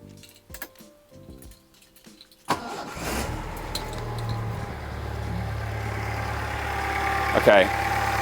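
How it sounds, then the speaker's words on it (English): A car engine cranks and fires after an earlier fuel leak, then settles into a steady, fairly close idle that runs to the end, with a brief louder rev near the finish. "Right, let's get it started again."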